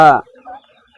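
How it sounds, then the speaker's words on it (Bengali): A tiger breed chicken on a farm gives one short, close cluck at the start, followed by faint, muffled voices in the background. "এটা অরিজিনাল টাইগার মুরগি"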